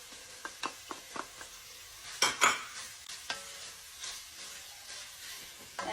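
Green chilies and chopped curry leaves frying in a pan for a Tamil mutton curry, a quiet sizzle broken by a string of sharp pops and spatters, louder bursts near the middle, no talking.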